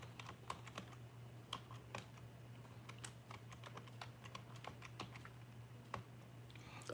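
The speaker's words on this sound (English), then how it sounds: "let me just type this in" Someone typing on a computer keyboard, faint irregular clicks of keys tapped in quick runs and pauses against a quiet room hum.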